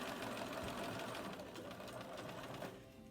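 A sewing machine stitches fabric in a steady, fast mechanical whir with dense rapid needle rhythm, close and continuous, easing slightly near the end.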